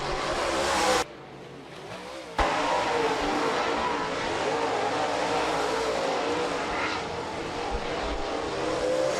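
Late model race cars roar continuously around Rapid Speedway, a dense engine drone that dips briefly then swells back to a steady, loud rush as the pack circles the track.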